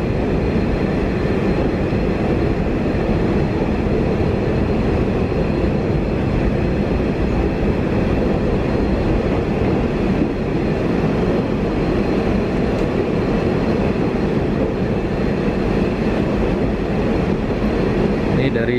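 A KfW i9000 commuter train rolls steadily on its run, switching from track 3 to track 2, with a constant loud rumble and rail noise filling the whole stretch.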